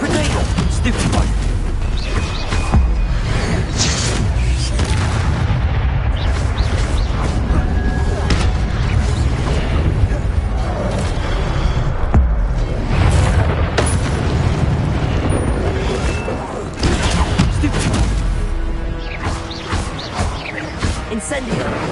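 A grenade blast in Hogwarts Legacy booms amid a dense, continuous wall of game combat noise, with heavy low rumble and crashes throughout and a voice talking over it.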